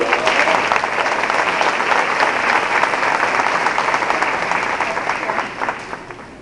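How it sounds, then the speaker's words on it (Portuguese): Loud, sustained applause from a church audience fills the space steadily, a dense wash of many hands clapping that thins slightly toward the end. "Dar um forte aplauso."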